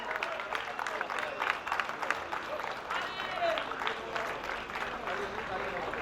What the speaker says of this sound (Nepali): कृपया सबैजनालाई जोरदार तालीको अपेक्षा हामीले गरेका छौँ।